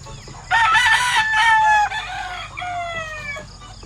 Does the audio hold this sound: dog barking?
no